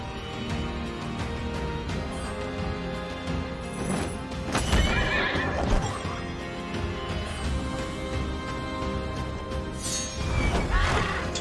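A horse in the video game Child of Light neighs and whinnies loudly over rapid clip-clop galloping hooves, with repeated whinnies across a continuous game soundtrack.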